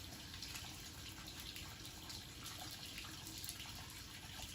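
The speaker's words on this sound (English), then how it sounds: "And water continues to flow." Water runs steadily through a Tucker Fill N Go water-fed pole system, a continuous broadband rush with a faint trickle that holds evenly for the whole stretch.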